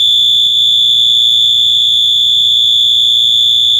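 A 12V alarm wired with a timed relay sounds continuously and loudly at one steady high pitch, with a low hum underneath and no pauses.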